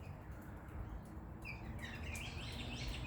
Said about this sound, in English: But it's the galahs time of the day now.